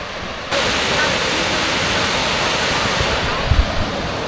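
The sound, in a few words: Dry Falls waterfall rushing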